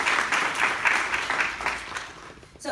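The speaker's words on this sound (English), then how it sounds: "Let's start by giving ourselves a round of applause for showing up." Applause from an audience at a talk on prison families rises in rhythmic waves of clapping, then thins out and fades toward the end.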